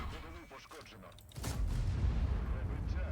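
A voice talks briefly, then a loud, booming tank cannon blast in a video game erupts and rolls on in a long rumbling tail.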